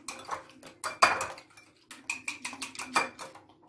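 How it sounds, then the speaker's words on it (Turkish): Egg whites are whisked with salt in a bowl, giving quick irregular clinks and taps of a utensil against the dish, close and fairly soft. "Yumurta akımızı bir tiske tuzla iyice çırpıyoruz bunları."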